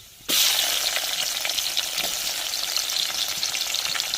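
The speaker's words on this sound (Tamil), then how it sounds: "கறி மசாலா பட்டு போட்டுக்கிறோம் வெட்டி வச்ச வெங்காயத்தையும் சேர்த்துக்கிறோம்" Chopped onions and curry masala hit hot oil in a pan with a sudden loud sizzle that keeps frying steadily, with faint stirring scrapes and no voices.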